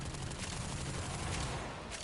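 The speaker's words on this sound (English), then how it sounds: "Now, if we expense it all the way out, it creates an explosion" Continuous rapid weapon fire from a Warframe game on PS5, a dense loud barrage of shots with a burst near the end as the gun overheats and explodes.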